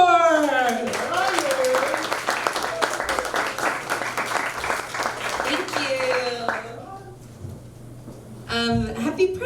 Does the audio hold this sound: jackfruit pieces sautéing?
no